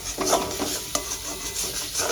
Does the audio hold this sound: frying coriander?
yes